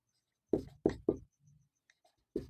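Chalk or marker strokes on a board during a maths lecture on sets and intervals, a few sharp taps and scrapes in quick succession, then a pause and one more stroke, close and clear with no talking.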